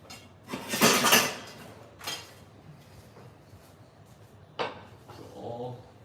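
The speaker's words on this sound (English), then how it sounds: "This in here, I'm gonna grab a pan." A metal pan is grabbed for brisket trimmings, giving a loud clattering scrape followed by a lighter knock and a sharp clank, with quieter rustling between them.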